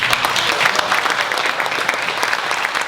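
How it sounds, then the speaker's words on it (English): Steady, dense applause from a reunion crowd at a 50th high school class reunion, filling the room evenly and close by without a break. "I'd like to ask for a round of applause,"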